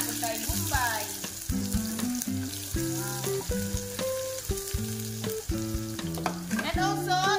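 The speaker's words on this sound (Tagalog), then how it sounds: "So gisahon na nato ning una ang atuang ahos." Garlic and onion sautéing over a strong flame in a hot pan for a ground pork dish, a steady sizzle and frying hiss running throughout and largely overlaid by prominent background music.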